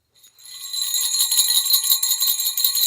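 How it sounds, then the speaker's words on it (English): Bright jingle bells shaken continuously, a dense shimmering ring that starts abruptly and keeps going steadily, close and fairly loud. "get to ring the jingle bells"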